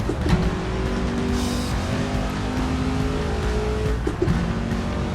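A Ford Mark II race car in the Assetto Corsa racing game, on a historic Daytona circuit, roars steadily at high revs, with a loud, sustained engine drone and brief shifts in pitch throughout.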